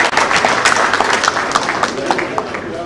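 Steady, loud applause from a forum audience at a Niger Delta Development Commission stakeholders' event, many hands clapping densely for a few seconds without a break.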